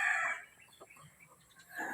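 Backyard chickens at feeding time, with a rooster's crow at the start and again at the end framing quieter, scattered clucks from the flock, all fairly faint.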